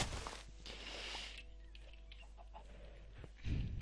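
A Minecraft chicken gives soft, faint clucks over a low steady hum, sparse and intermittent, with a louder scuffling burst at the end.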